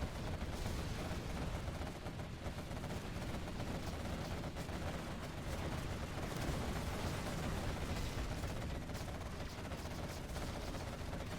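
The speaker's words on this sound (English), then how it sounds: "Quad Cannon just absolutely slices through that Stinger sight." Sustained Quad Cannon gunfire in the real-time strategy game Command & Conquer Generals Zero Hour, a dense continuous rattle of rapid shots with battle noise, loud and steady throughout with no talk.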